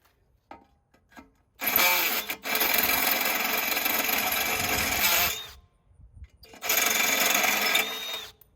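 Power drill bores a hole into a 2020 Jeep Wrangler, with two loud sustained bursts of grinding whine separated by a pause, close and alone without talk.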